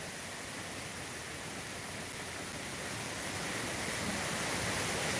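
Njandirukki waterfall, a steady dense roar of falling water, loud and unbroken, swelling slightly toward the end.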